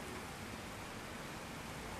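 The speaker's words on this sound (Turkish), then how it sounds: "Evet, şimdi yine yağmur başladı Mersin'de." Rain falling steadily in Mersin during flooding, a faint, even hiss of drops with no other sounds.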